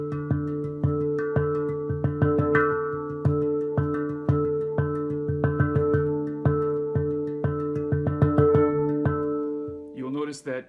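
Hang drum played in accented triplet groupings, ringing bell-like tones in a steady one-two-three pulse that speeds up and swells in a crescendo, close and resonant, ending with a brief scrape of handling.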